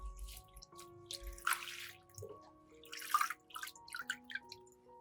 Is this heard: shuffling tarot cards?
no